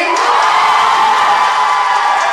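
Wedding guests erupt in loud cheering, whooping and applause for the third couple in a contest, a dense, sustained crowd roar from start to finish.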